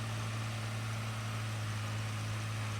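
A tractor engine idles steadily in the farming game Farming Simulator 15, a constant low drone with a strong hum and no speech.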